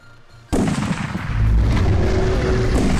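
After a brief quiet moment, loud, heavy gunfire erupts in Ark Survival Evolved during a hunt for a giant dinosaur. The booming shots and rumble continue without a break, close and dominant.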